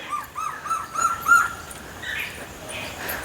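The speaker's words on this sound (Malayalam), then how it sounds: "കിളികൾ കരയുന്നു" Several birds call and caw in repeated short cries, moderately near, over a quiet outdoor background.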